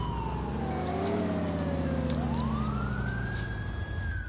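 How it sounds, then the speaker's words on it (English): An ambulance siren in a police video game wails continuously, sweeping down then rising again in a long tone over a steady engine rumble, loud and close. "Here goes the ambulance."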